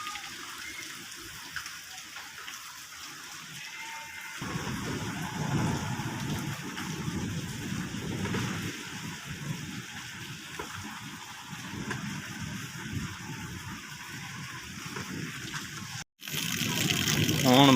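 Steady rain falls around a home, a dense hiss that swells partway through and keeps going, with faint voices under it.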